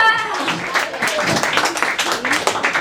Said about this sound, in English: what a warm hand of applause